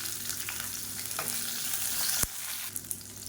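Garlic cloves, whole small onions and ginger frying in oil in a pan for a diet dosa preparation, a steady close sizzle with a few soft stirring taps.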